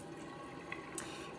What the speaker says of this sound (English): I'm first gonna get my Konjac sponge wet with lukewarm water